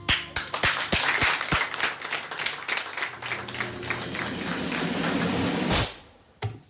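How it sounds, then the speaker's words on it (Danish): Diners in a restaurant clap, starting with a few loud, separate claps close by, then swelling into fuller applause that cuts off sharply, with one last clap after. "Skal vi så ikke klappe?"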